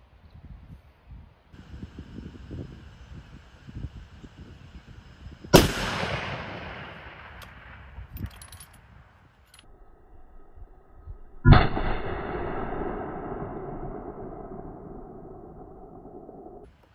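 Two loud rifle shots fired at milk jugs outdoors, each a sharp crack with a long rolling echo, spaced several seconds apart over faint background noise.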